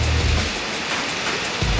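Heavy tropical downpour on a city street, a dense continuous hiss of rain close by, loud and steady with a low rumble at the start and end.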